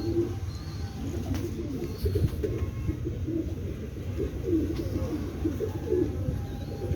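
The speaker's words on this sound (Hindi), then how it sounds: "ये वाइट मोतियों वाला कबूतर है" Several pigeons, including a white-pearled breed, coo continuously in low, throaty murmurs, close by and overlapping, with a faint rustle in the background.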